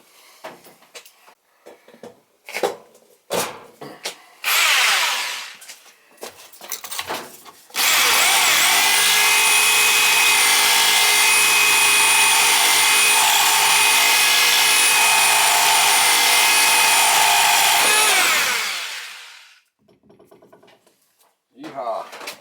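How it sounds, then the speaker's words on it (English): A Sawzall reciprocating saw cuts through cast iron pipe in a long, loud, steady grinding buzz lasting about ten seconds, preceded by shorter bursts and clatter, with a person talking before and after. "Sawzall."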